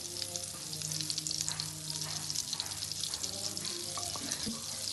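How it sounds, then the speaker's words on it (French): Butter melts in a pan with a soft, continuous crackling sizzle at low level, steady throughout with a low background hum and faint knocks. "je finis de faire fondre mon beurre"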